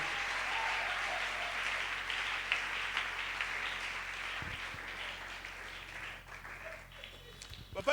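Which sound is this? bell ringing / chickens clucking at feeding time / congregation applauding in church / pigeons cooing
congregation applauding in church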